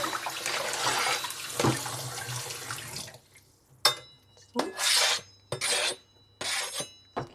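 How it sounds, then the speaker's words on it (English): Tap water runs into a bowl being rinsed of mushroom debris, a steady splashing flow for about three seconds followed by several short bursts of running water, close and fairly loud. "Let's give the bowl a quick little rinse because we now have mushroom debris everywhere"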